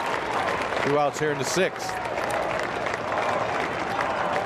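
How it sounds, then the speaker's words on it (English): Crowd of high school baseball fans at a state championship game applauding after an out, a steady wash of clapping from the stands heard throughout under an announcer's talk. "they're still clapping on every out"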